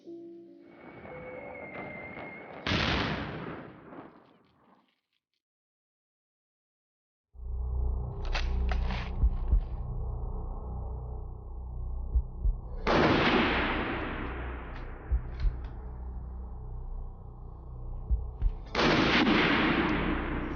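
WW1 machine guns and rifles firing outdoors in loud, sustained bursts with sharp individual cracks, a brief silent gap, then renewed heavy automatic fire with several distinct louder shots.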